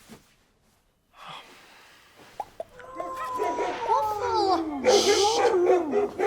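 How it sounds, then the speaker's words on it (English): A dog named Waffle howls in rising and falling wavering tones, loud and close, starting after a short quiet stretch and a couple of sharp knocks, with breathy sounds mixed in. "Waffle, please stop howling"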